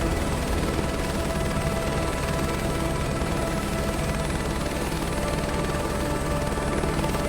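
A steady, loud helicopter drone with rotor thump and engine whine from Microsoft Flight Simulator 2024 runs continuously, close and unbroken, with no voices.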